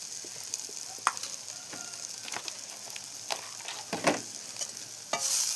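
Onions sizzling and frying in a pan while making ragi noodles with masala, a steady hiss with scattered crackles and stirring scrapes, closer and louder bursts near the end.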